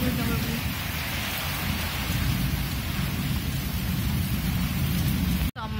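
Heavy rain pours down in a thunderstorm with strong wind, a dense, loud, continuous roar of downpour and rumbling that runs unbroken before cutting off abruptly near the end.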